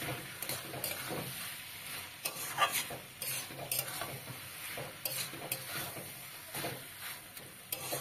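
Fried beans are sautéed in a curry pan, with a soft sizzle under repeated, irregular scrapes and clinks of a spoon against the metal. The stirring is close but fairly quiet.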